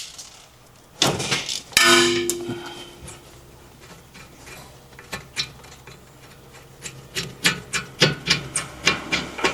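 Brake caliper bolt on a 2011 Toyota Sienna being broken loose with hand tools, giving sharp metallic clanks and a ringing clang, then a run of rhythmic ratcheting clicks close by, with no talking.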